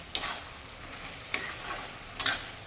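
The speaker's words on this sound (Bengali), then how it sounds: "খুব ভালো মতো করে নাড়িয়ে মিশিয়ে দেব।" Cabbage and fish head curry with potato stirred in a hot pan over high flame, a steady sizzle broken by three scraping stir strokes at irregular intervals, close up with no talk.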